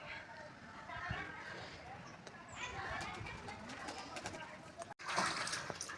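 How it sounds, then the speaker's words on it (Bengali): A male pigeon coos in a breeding display among a flock being released, faint repeated cooing under a person speaking and general outdoor noise. "তো গাইস নর পায়রাটা কি করছে দেখো"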